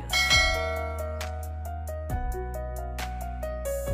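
Two bright bell-like dings, each followed by a quick run of lighter chime tones, ring out clearly over a sustained low tone.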